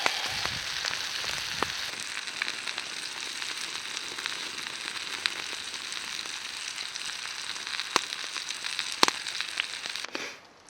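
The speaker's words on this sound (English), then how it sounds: "Let the flame die down a bit and then throw my steak on." Steak frying over an open flame at a snowy winter campsite, a continuous close sizzle with scattered pops and crackles, no talking.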